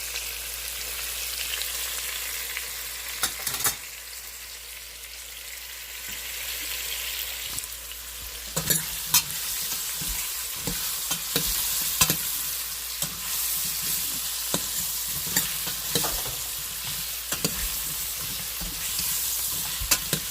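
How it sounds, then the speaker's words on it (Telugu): Tempering spices frying in oil in a kadai for pumpkin sambar, a soft continuous sizzle broken by repeated sharp scrapes and clinks of a spoon stirring, close and without voices. "నేను పోపు తర్వాత వేయను, ముందే వేసేస్తాను అన్నమాట పోపు."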